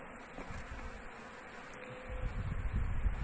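Honeybees buzzing at a hive in a Çankırı apiary in Central Anatolia, a close continuous hum with rustling that grows slightly louder toward the end, no talking.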